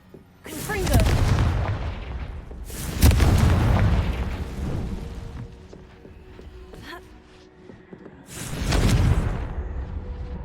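Confringo fire spells exploding in Hogwarts Legacy, three heavy booming blasts spaced a few seconds apart, each a sharp burst that rumbles and fades, with a softer rumble and clatter between them.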